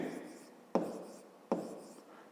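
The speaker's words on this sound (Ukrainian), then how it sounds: "Отже, пишемо перше. Записуємо." Numbers are written by hand in a quiet room, with a soft scratching of pen on paper broken by two sharper strokes, close and alone.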